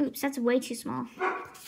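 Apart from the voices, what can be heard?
dog barking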